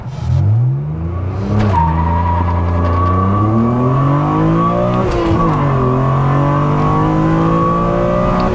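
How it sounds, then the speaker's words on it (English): A tuned BMW E36 M3 Evo with a full exhaust revs hard and climbs through the gears, a loud, continuous exhaust roar rising in pitch with brief shifts in between. "Get a bit of heat in the exhaust and it makes some good noises."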